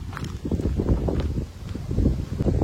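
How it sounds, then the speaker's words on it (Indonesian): Strong wind in an Eastern European village buffets the microphone in loud, close, uneven gusts with rumbling bursts and brief lulls. "Mau lihat seberapa kencang nih angin nih."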